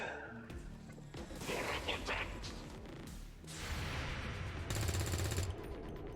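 SMG overwatch fire in the strategy game XCOM Long War of the Chosen, with dense game effects and bursts of shots over a busy mix before a brighter, louder volley near the end.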